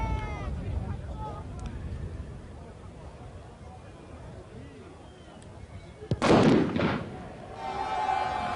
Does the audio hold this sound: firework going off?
yes